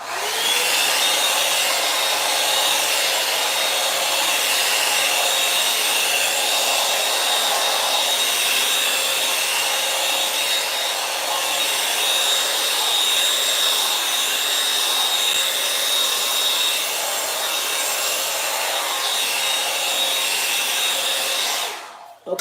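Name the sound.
hair dryer blowing on cool setting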